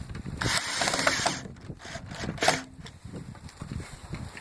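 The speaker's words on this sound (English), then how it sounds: "just put this screw on right here to help keep the wheel from slipping off the mount" A screw is driven in to hold a wheel on its mount, giving close clicking, ratcheting tool sounds and short mechanical rattles in uneven bursts.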